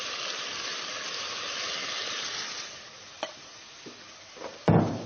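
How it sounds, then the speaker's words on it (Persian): Chopped tomatoes go into a pan of browned frying onions, a steady hiss and sizzle of cooking that fades, followed by a few sharp scrapes and clinks of a utensil near the end. "پیازه که یه مقداری رنگ شد، گوجه فرنگی رو بهش اضافه میکنم"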